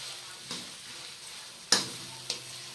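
Onion frying in oil in a home kitchen, a faint steady sizzle with three sharper stirring clicks from a utensil scattered through the few seconds, no voices.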